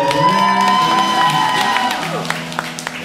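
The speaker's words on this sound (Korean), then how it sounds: "박수." A nightclub audience at a live blues band show claps and cheers for a birthday, a dense crowd roar with whoops and shouts over a held musical tone, thinning toward the end.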